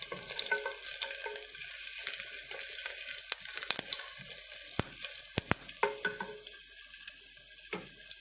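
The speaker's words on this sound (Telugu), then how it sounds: "తెల్లగడ్డలు బాగా ఫ్రై అయ్యేలాగా" Crushed garlic with mustard seeds sizzling and frying in hot oil in a pan, a steady crackling hiss with occasional sharp pops and a brief stir, no voices.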